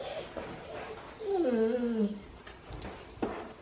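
A dog whimpers and whines in a rising, wavering cry, with quieter whimpers before and after.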